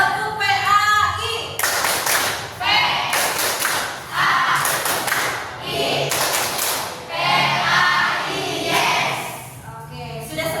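A school class performs the rhythmic 'Tepuk PAI' clap chant during an Islamic religious education lesson, loud patterned bursts of group clapping alternating with children's chanted voices, repeated several times at close range.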